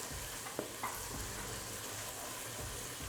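Roughly chopped onions fry over a high flame in a kadhai while being stirred, giving a steady close sizzle throughout with a couple of brief clinks from the stirring spoon.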